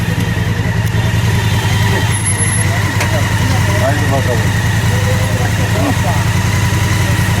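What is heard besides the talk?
motorcycle engine running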